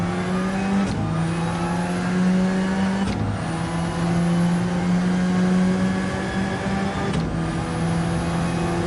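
Alfa Romeo 4C race car in a Gran Turismo 7 online race, its engine droning loud and close with three sharp gear shifts breaking the steady revving tone.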